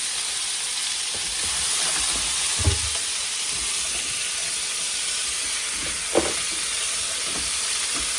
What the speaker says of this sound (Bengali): এতে মরিচ ভেজে নিচ্ছে